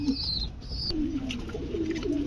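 A pigeon being sold as a breeding bird gives a low, rolling coo, repeated in soft throaty phrases close by, with a brief faint higher whistle near the start.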